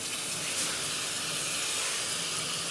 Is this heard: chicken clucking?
no